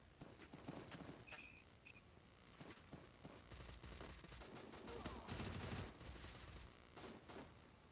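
Gunfire in a shooter video game, rapid bursts of automatic shots and scattered single cracks over several seconds, with footstep-like clatter and game effects between them.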